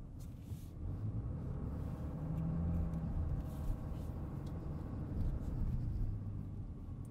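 A 2020 Ram 2500 diesel pickup on the move, with a steady low engine rumble and clatter throughout, heard from inside the cab, moderately loud and without talking.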